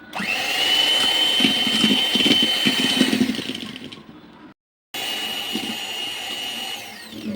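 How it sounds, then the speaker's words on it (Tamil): An electric blender whirs steadily, mixing cake batter with semolina, loud and continuous, then cuts out briefly before starting again for a second run. "நான் வந்து இந்த பிளெண்டர் இதை வச்சு மிக்ஸ் பண்ணுறேன்"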